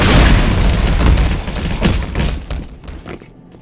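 A grenade blast in the game Black Mesa, a loud booming explosion with rumbling debris that decays over a few seconds, heard alone without talk.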